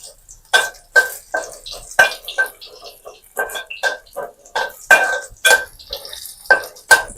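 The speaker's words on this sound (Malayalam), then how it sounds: "നമുക്ക് ജസ്റ്റ് ഒന്ന് ഇളക്കാം" A spoon scrapes and clatters against a pan while beetroot thoran is stirred, a series of short, sharp, close knocks and scrapes in an uneven rhythm.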